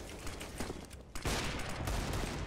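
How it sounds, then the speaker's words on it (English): Dense bursts of gunfire from the video game CS:GO: rapid overlapping shots fired loud and close for the whole stretch, with a brief lull near the middle. "Stop shooting me!"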